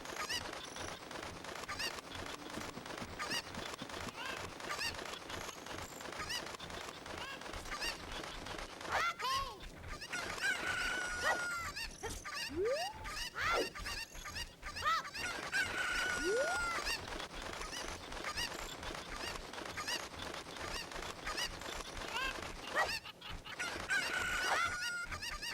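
Cuccos from the Ocarina of Time video game cluck and squawk continuously in a dense, busy game soundtrack, with repeated bird calls throughout and occasional voice underneath.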